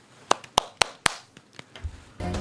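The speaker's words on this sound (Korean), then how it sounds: "박수." A few sharp, distinct hand claps in an uneven rhythm, close and isolated against quiet, followed by softer taps and a brief low rumble.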